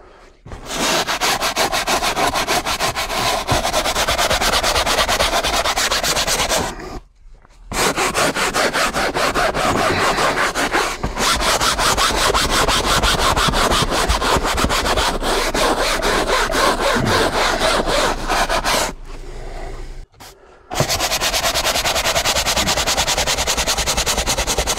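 A brush scrubs cleaning foam into a stained seat, making loud continuous rough scratching strokes in long bursts with two short pauses.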